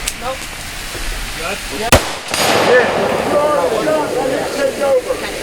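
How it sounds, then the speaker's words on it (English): Two sharp gunshots ring out against steel targets during a shooting exercise, close together near the middle. People talk around the shots over an open-air background. "2 shots on steel."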